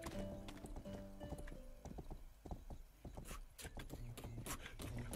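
Horse hooves clip-clop steadily while riding into town in the Western game Rustler, with an occasional whinny in the mix and no talk over them.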